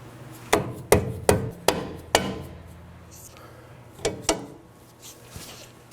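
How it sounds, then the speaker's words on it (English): A rubber mallet strikes a stuck front sway bar link during strut replacement on a 2018-2024 Chevrolet Equinox. There are five sharp blows in quick succession, a pause, then two more, close and distinct. "I'm just going to get a rubber mallet and hit the top."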